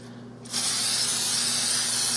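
An aerosol spray bursts on and hisses steadily and loudly over the tops of puff pastry doughnuts in an air fryer basket, a continuous close spray after a brief quiet start.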